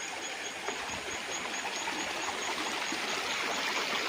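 A river running through a three-hectare farm lot in Real, Quezon, its steady rushing and trickling water continuous and fairly close, without voices.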